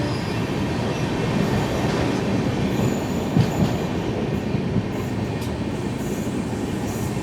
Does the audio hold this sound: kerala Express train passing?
yes